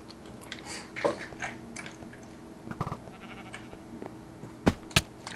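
Sheep in a video game, several short bleats among chewing and soft shuffling, with two sharp sudden clicks near the end, close and moderately loud without talk.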